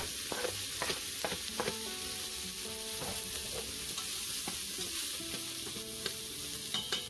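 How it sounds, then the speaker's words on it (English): Onions and celery sautéing in a pot in a small RV kitchen, a soft, even sizzle beneath intermittent stirring clinks and scrapes, fairly quiet and without talk. "I go ahead and saute the onions and, well, in this case, celery, and just let that go until it gets soft"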